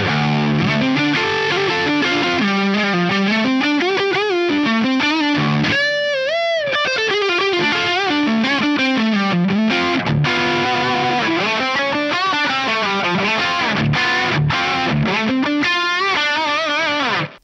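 An electric guitar runs through a Workhorse overdrive pedal stacked into a gain pedal, giving a thick, saturated distorted tone. It plays busy continuous riffs and bends at steady loudness, with no voices.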